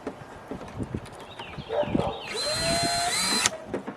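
After some knocking and handling noises, a power drill whirs up and runs steadily for over a second, drilling two holes in plastic while installing a dash cam in a car, then stops abruptly.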